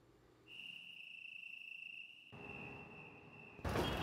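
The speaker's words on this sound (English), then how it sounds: "I don't want the crickets to be too overwhelming." A high, steady cricket trill rings out, with the background noise shifting abruptly partway through and a louder rush of noise at the end.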